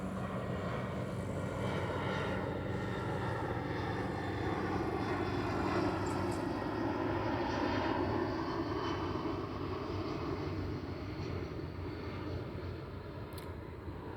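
A propeller airplane flying overhead, a steady broad engine drone that swells toward the middle and slowly fades, heard alone with no talking.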